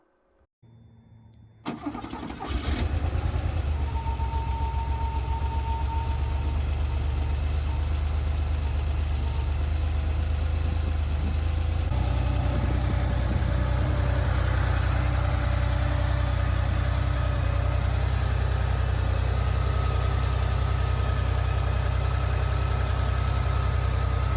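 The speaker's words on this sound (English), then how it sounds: "The starter motor sounds like it's turning on a 1930s tractor, while the engine's ticking, clacking, and booming sounds are truly something else." An air-cooled engine in a 1978 Porsche 911SC cranks with a grinding starter, catches with a loud burst, and settles into a steady, rumbling idle with ticking and clacking underneath, close and alone.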